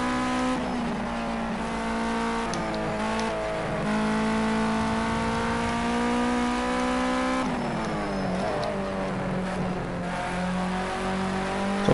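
Ginetta G40 GT5 race car engine in Project Cars 2 racing game, droning loudly and continuously with rising and falling revs through gear changes, running alone without talk.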